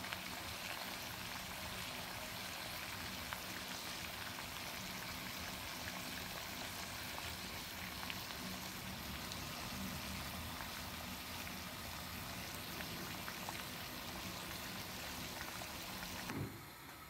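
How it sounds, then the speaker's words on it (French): Herbal tea simmers in a pot in a steady, faint, unbroken bubbling hiss that carries on unchanged with no talking. "nous donnons le temps de bien faire mijoter notre tisane"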